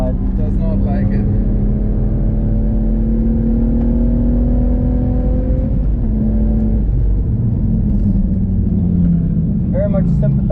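A 500hp BMW M135i on track in third gear, its engine droning loudly and steadily with a rising, whining tone, then easing and picking up again, heard from inside the car.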